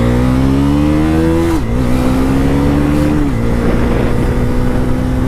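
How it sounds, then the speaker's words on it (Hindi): A KTM Duke 250 Gen 3 motorcycle engine pulls in road mode, a loud steady drone from the rider's position that climbs in pitch, drops back twice as revs shift, then keeps humming with no talk. "अब ज़रा पहले मैं चला के देखता हूँ कि क्या रोड मोड पे गियर चेंज करेगी क्लचलेस या नहीं करेगी बाइक।"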